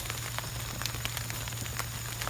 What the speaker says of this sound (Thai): ฝนลงเม็ดแล้วเข้าบ้าน